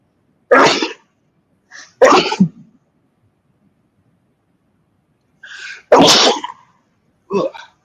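A series of sharp, loud allergy sneezes come in separate bursts with quiet gaps between them, close to the microphone.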